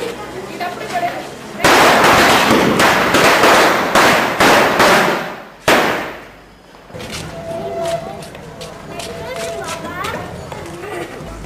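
Firecracker bombs go off in a rapid string of loud, sharp bangs, then scattered smaller pops further off, with people talking throughout.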